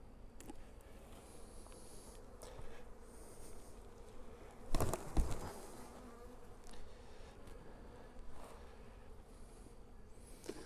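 Honeybees buzz steadily around an open hive while a queen box is being made up, a continuous close hum with louder passes near the middle as bees fly right by.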